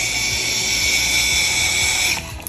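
A power screwdriver whirs steadily with a high motor whine as wall outlets are installed, running nearly continuously before winding down at the end.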